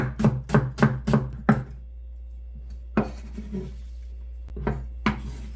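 A single onion being cut into thin strips on a board for a radish and napa cabbage water kimchi, with about five quick knife taps, a pause, then a few more separate cuts, close and fairly loud.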